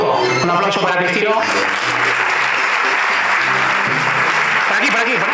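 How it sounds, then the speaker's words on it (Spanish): Audience applauding at an awards ceremony, a steady, loud wash of clapping from a crowd under a voice speaking Spanish. "Un aplauso para Cristino"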